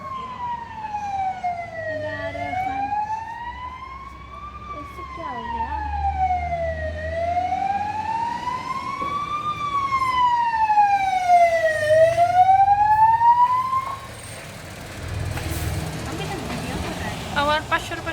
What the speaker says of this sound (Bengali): হঠাৎ করে শুনতে পেলাম পুলিশের গাড়ির আওয়াজ বা ফায়ার সার্ভিসের আওয়াজ